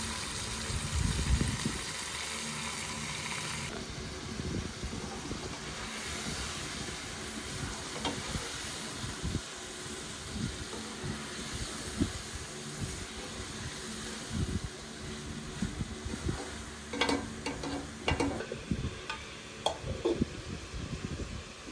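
Meat and spices fry in ghee in a village kitchen, a steady close sizzle broken by repeated scraping and stirring strokes, with a few sharper clinks near the end and no talk.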